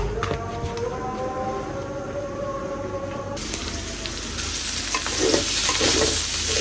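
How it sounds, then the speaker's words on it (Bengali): Fish pieces fry in hot oil in a home kitchen pan, a steady close sizzle and spatter that grows louder and busier toward the end, with faint clinks and no speech. "আর এদিকে মাছ ভাজতে দিয়েছি, মাছটাও হয়ে গেছে।"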